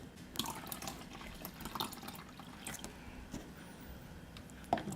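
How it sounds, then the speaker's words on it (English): Water poured into rice cake batter for a Vietnamese dish, giving soft, continuous splashing and trickling with a few sharper drips, close and moderately quiet. "Now I'm going to add 3/4 cup of water back into the batter."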